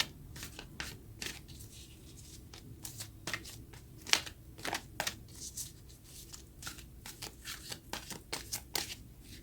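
Oracle cards being shuffled by hand in a quiet room, a steady run of crisp riffling bursts and soft slaps repeating for several seconds with no one talking.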